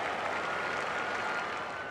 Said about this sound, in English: So a round of applause here from this crowd